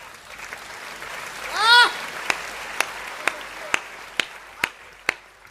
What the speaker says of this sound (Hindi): तालियां थोड़ी सी कमजोर आप लोगों की रह गई है